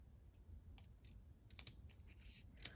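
Scissors snipping paper ladybug dimensionals in half for a Stampin' Up card, a few quiet, sharp crisp cuts scattered over a soft, low background.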